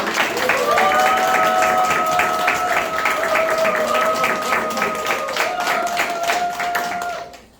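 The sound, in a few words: audience applause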